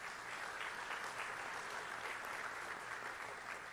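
Steady, full audience applause inside a church hall at a Brevard County Sheriff's Office awards ceremony, many hands clapping continuously at even loudness from start to finish with no one speaking.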